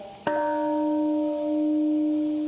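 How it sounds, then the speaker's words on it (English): A single commemorative bell struck once at the Hiroshima atomic bombing anniversary ceremony, its clear tone ringing out and sustaining steadily with a long, slowly fading hum and no talk. "A bell to mark the moment that killed thousands."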